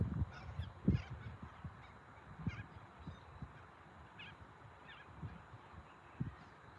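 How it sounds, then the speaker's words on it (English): Cockatoos and corellas give harsh, raucous calls outdoors, scattered squawks of varying loudness, some fairly near and others farther off, with no voices. "It's cockatoos, Corellas."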